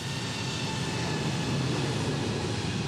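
An Iberia Airbus A330 passes overhead in Microsoft Flight Simulator 2020 at Washington Dulles, a steady, broad jet engine roar holding even for about three seconds with no talk.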